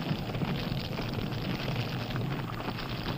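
Ordinary explosive burns inside a nuclear weapon during a fire test, giving a steady, dense roaring crackle with no distinct bursts, loud and unbroken throughout.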